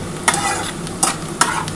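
Onion paste fries in a pan for a katla fish curry, soft sizzling broken by three quick scraping stirs of a spatula, close and clear.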